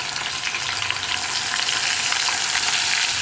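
Ground coconut paste frying in a pan over a lowered flame for a vegetable mappas curry, a steady, close, continuous sizzle with soft crackle throughout.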